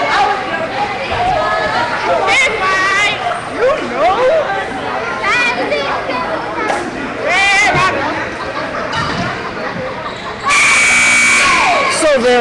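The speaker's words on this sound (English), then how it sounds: "There's the buzzer, and we're back to the action." A buzzer sounds near the end at a high school basketball game between Houma Christian and Madison Prep, a loud sustained blare over crowd chatter, sneaker squeaks and a commentator talking throughout.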